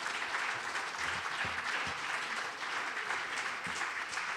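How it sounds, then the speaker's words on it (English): A concert audience at Stratford Playhouse claps in sustained, even applause, a dense close wash of handclaps with no voices. "I think we ought to give them all a massive round of applause"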